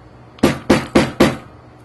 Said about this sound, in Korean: 여기도 한번 망치로 때려줘야 되겠죠.